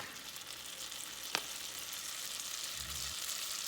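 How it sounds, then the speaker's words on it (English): Half a pound of butter sizzles steadily as it melts in a pot for brown butter, a constant fine crackle with one brief sharper pop and a low stir near the end. "And you can hear it sizzle."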